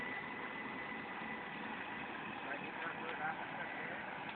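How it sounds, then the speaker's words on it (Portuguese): A tractor engine idles in a continuous, even drone with a low rumble and faint mechanical vibration, steady and moderately distant, with no other sounds breaking through. "Não, você tem que ir lá pra frear esse trator."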